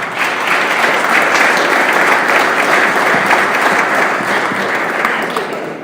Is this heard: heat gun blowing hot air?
no